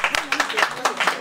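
An audience applauds at a festive gathering honouring a Kouibly deputy: a quick run of sharp, evenly spaced claps, close and fairly loud, with voices mixed in.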